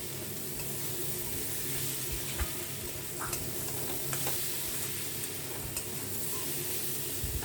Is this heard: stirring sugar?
yes